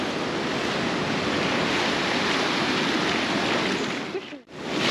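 Surf pounds continuously onto the beach at Fraser Island (K'gari), a dense roaring wash of breaking waves close by with wind buffeting, briefly dropping out near the end.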